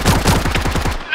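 Sausage Man gunfire: a rapid, evenly spaced string of close automatic shots, about a dozen in just over a second, ending abruptly with a short voice afterward.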